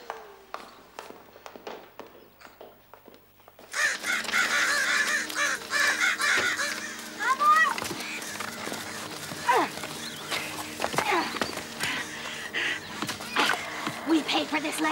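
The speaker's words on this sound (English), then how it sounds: "He's gonna scare away the birds." Crows cawing in a backyard, with harsh repeated caws, some near and some farther off, over outdoor rustling and taps after a quieter start.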